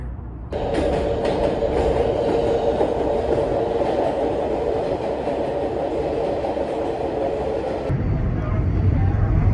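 A New York subway train rumbles and roars steadily past at close range, loud and continuous with a metallic clatter, then abruptly drops to a lower rumble near the end.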